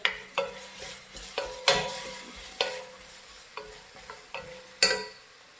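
Onions sautéing with salt in a pan for prawn biryani, stirred in a string of repeated scraping strokes over a soft, continuous sizzle, close by and with no talking.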